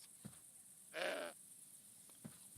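Goat in the video game Broken Sword 5 gives a single short, bright bleat, fairly faint over quiet background with a few soft thuds before and after.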